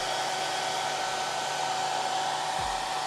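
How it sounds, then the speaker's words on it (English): A hair dryer runs steadily and close, blowing warm air to cure airbrush primer on a scale model, an even continuous whoosh with a faint whine throughout. "Pull out said hairdryer."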